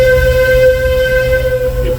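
A Disneyland Railroad train arrives at New Orleans Square Station on a rainy day, giving a loud, steady rumble with a sustained whistle-like tone held throughout.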